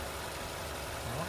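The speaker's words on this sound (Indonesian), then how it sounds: "ini dengan kondisi mesin masih nyala idle" A Chevrolet Trax engine, warmed up to operating temperature, idles during a transmission fluid change, giving a faint, steady low hum with slight hiss.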